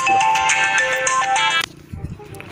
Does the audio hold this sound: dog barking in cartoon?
no